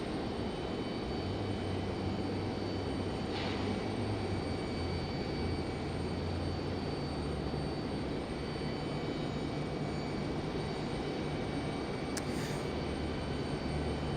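Distant American airliner jet at Raleigh Durham airport during evening departures, a steady low broad engine roar holding throughout with no clear build or fade.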